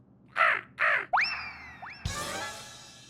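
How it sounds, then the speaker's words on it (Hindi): A crow caws twice, harsh and close, followed by rising whistled tones and then a burst of broad noise. "ये तो कौवा है।"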